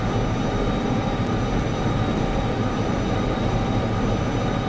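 A freight train rolls on rails in the railway game Derail Valley, pushed by heavy loads of building stone: a loud, continuous rumble and clatter of wheels that stays steady throughout, with no talking.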